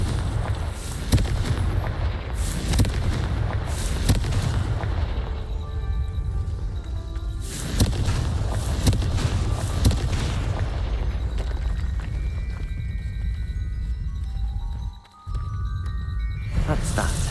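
Confringo spell blasts in Hogwarts Legacy ring out as loud, booming explosions over a dense game soundscape, with several heavy bursts and rumbling tails, some softer tonal effects, and a brief dropout near the end.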